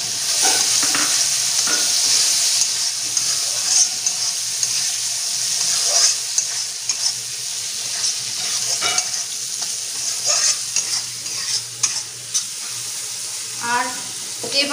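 Small chopped eggplant pieces frying in turmeric-seasoned oil in a pan give a loud, steady sizzle throughout, with intermittent stirring scrapes and clatter near the end.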